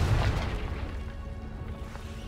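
A Confringo fire-blast spell explodes in Hogwarts Legacy, a loud close boom with a heavy low rumble that fades over about two seconds, with no talking.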